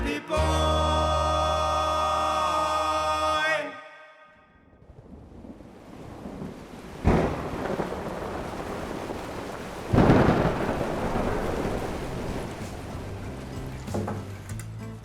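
Heavy rain with rolling thunder, entering after a short sung musical passage: a steady patter of falling rain under two loud, close thunder cracks that rumble away.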